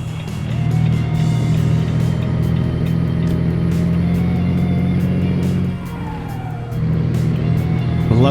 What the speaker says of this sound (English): I love the turbo sound on this.